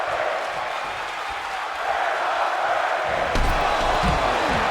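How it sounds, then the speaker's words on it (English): At a live pro wrestling match, the arena crowd roars in a loud, continuous wash of voices that rises in two steps as chanting and cheering build, with a sharp thump from the ring partway through. "Now the crowd with a chant of "We're not worthy." They are loving this match."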